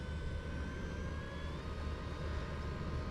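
A micro electric ducted-fan model jet runs at full throttle with a steady, faint high-pitched whine and a thin rising tone, set against a constant broad rushing noise.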